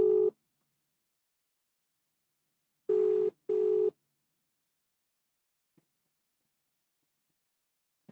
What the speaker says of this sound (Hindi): चलो भाई मैं अपने दोस्त को फ़ोन कर रहा